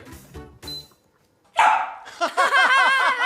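A dog barks a few short, sharp times, with a pause after two quick opening barks and then a louder, denser burst of yips close by, alone without talk.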